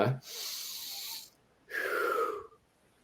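Two long, deliberate breaths, a forceful airy exhale followed by a slow drawn breath with a slight whistling tone, separated by a short pause.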